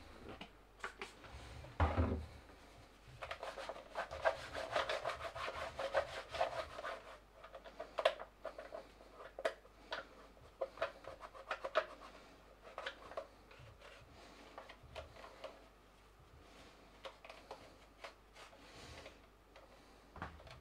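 Faint, close rubbing and scrubbing on an old AM travel radio while it is cleaned, with irregular small taps and clicks scattered through quiet stretches.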